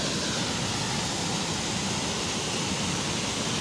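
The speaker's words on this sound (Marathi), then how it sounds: "बापरे, किती जोरात पाणी पडतंय." Water pours over the Siddhewadi dam waterfall in Sangli, a loud, constant broadband roar with no breaks and no voices.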